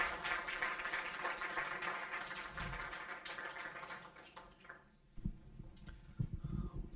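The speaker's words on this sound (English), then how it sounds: "Dr. Amir Rouzati, another round of applause." An audience at a talk claps in warm, sustained applause that fades out over about five seconds, leaving a few scattered handling thumps in a quiet room.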